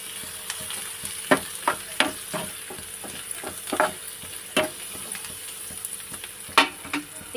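Onions with turmeric sautéing in a pan, a soft continuous sizzle broken by a string of irregular scraping stirs and clinks, close and without any talk.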